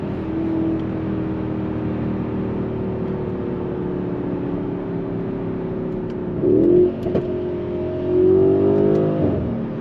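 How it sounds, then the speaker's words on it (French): Mercedes-AMG GLC 63 S with a 510 hp biturbo V8 and the sport exhaust engaged, heard from inside as a steady low engine drone that surges twice into louder revving pulls toward the end, with no voices. "avec l'échappement sport activé. On a une sonorité extrêmement plaisante directement dans les oreilles."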